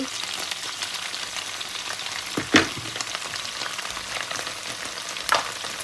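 Red fish balls being stir-fried with leaves in a hot pan give a steady close sizzle and frying hiss, with a couple of sharper scraping clatters from the utensil against the pan.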